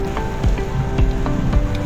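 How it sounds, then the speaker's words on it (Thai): Steady rain falling on a road in Yasothon province, Thailand, a continuous close patter with a few heavier drops landing at irregular intervals, no voices present. "ฝนก็ยังตกอยู่ไม่หยุดนะครับ"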